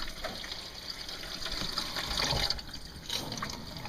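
Water runs steadily from a household tap left on to clear air from the line, a continuous splashing hiss with slight surges and gurgles, close by and without talk.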